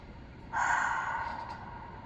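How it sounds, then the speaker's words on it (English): A slow, deep inhaled breath, close and soft, lasting about a second and a half over a faint background hum, with no talking. "take a deep breath"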